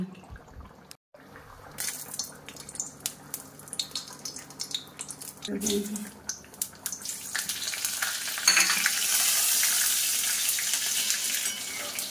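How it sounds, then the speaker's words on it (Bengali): Oil poured into a hot wok while cooking dal spits and crackles, quiet at first with scattered clinks and knocks, then swelling into a loud, continuous sizzle in the final seconds. "কড়াই গরম হয়ে গেছে, দিয়ে দিচ্ছি পরিমাণ মতো তেল"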